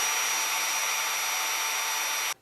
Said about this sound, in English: Put a U-joint on the drill so that when I drive it, at least the drill doesn't shake quite as much.